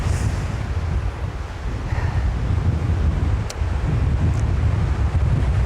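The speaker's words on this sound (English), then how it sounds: "This wind is really boring." Steady wind buffets the microphone on a seaside spot with grass in the foreground and the sea beyond, a constant low rumbling roar with faint surf-like hiss, brief dip midway, no voices.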